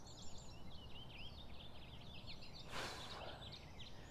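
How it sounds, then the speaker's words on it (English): Birds chirping and calling repeatedly in an oak woodland beside a river, with the steady rush of flowing water underneath and a brief louder burst partway through. "the sound of the river, birds all around."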